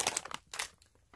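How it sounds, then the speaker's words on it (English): A plastic bag holding blueberry muffins crinkles in a few quick, close, quiet bursts, with brief pauses between rustles. "blueberry muffins in a plastic bag"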